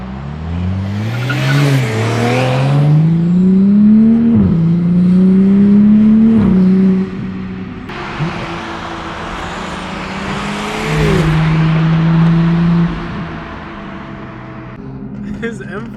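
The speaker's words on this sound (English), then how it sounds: "His M4 is so loud," A BMW M4 revs loudly in repeated rising bursts, its engine note climbing and falling as it accelerates nearby, with a second stretch of strong revving later on.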